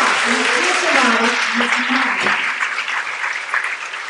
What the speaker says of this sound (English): So would you please give them a great round of applause?